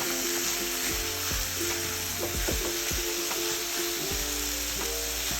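Jackfruit curry cooking in a pan on high heat after mustard goes in, a constant bright sizzle with repeated knocks and scrapes of a spoon stirring, close and even in level, without speech.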